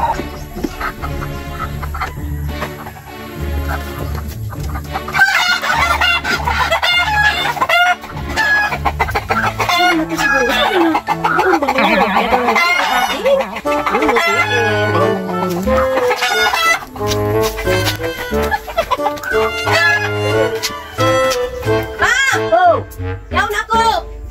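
Chickens cluck busily close by while a rooster crows, with people talking over the farmyard noise throughout.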